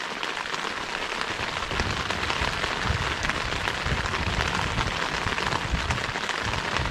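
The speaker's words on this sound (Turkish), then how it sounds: "Felaket yağıyor." Heavy rain pours down during a storm in the Koruoba and Bademli area on the road toward Troy, a dense, loud and steady hiss of drops hitting surfaces with no break and no voices.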